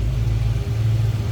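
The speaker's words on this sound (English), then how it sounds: "A little rumble coming out of that 289." A 1967 Ford Mustang coupe's 289 V8 idles with a deep, steady low rumble and a slight rhythmic lope, heard close and alone with a small dip midway.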